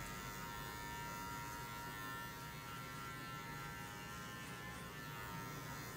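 An electric hair clipper fitted with a number 2 guard buzzes continuously while cutting a men's fade, a steady close motor drone with no talk over it.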